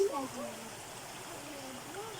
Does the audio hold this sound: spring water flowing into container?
yes